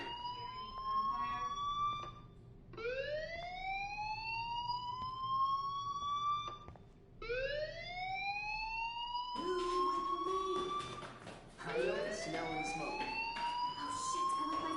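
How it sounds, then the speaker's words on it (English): A fire alarm in the video game Life is Strange gives off a loud, repeating rising wail, about five upward sweeps in a row, each cycle sliding up in pitch before restarting. "Hey, do you hear that fire alarm? That means you should be outside."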